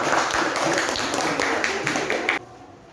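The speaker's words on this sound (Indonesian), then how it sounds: "kita beri tepuk tangan untuk kelompok 3" A classroom full of people claps together in a steady round of applause that stops abruptly near the end.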